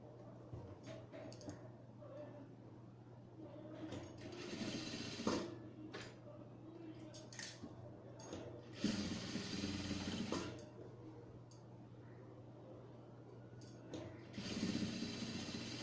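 A sewing machine top-stitches a baby frock, running in several short bursts of rapid mechanical stitching separated by quiet pauses and light handling clicks, close and moderately quiet.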